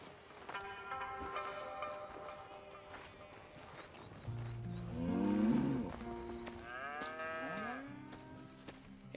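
Cattle on a ranch in Red Dead Redemption 2 give several drawn-out moos in the middle and latter half, fairly close and alone over quiet ambient game sound.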